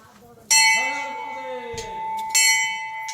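A Shiva temple bell is struck twice, each strike a bright metallic clang with a long ringing decay that fades before the next hit.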